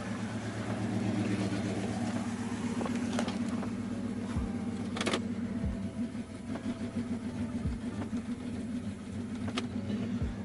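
A Mopar car engine idles in drive gear, a steady low rumble held close throughout, with a few faint clicks and knocks over it.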